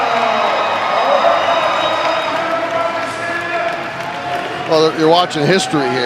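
A large crowd roars and cheers continuously through an Arnold Strongman Classic record lift, loud and sustained, with a commentator talking over it toward the end.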